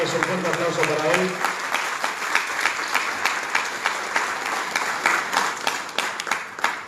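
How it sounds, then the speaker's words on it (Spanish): An audience at a school cooperative congress in Buenos Aires breaks into sustained applause after a speaker's voice, the clapping dense and even throughout. "Un fuerte aplauso para él."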